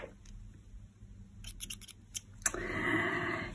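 Scissors snip through knitting wool, a few light crisp clicks followed by a sustained rustling cut, close and fairly quiet.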